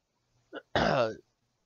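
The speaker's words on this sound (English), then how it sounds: "I'm sorry for clearing my throat just now." A single person clears their throat: a short grunt followed by a longer, rough rasping sound, then silence.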